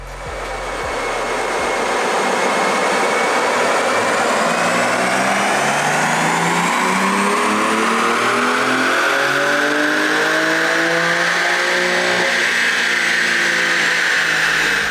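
A BMW G87 M2 engine revs up steadily under load on a dyno, pitch climbing smoothly for a long continuous pull, loud and close.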